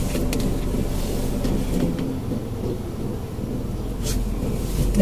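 A manual car pulls away, its engine giving a steady low rumble and road drone close by, with a couple of faint clicks and rattles.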